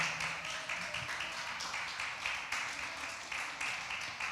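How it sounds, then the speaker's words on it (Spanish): A church congregation claps steadily and continuously, a dense wash of hand claps heard from a little distance, fairly faint, with no one speaking. "Denle una ofrenda de palmas al Rey."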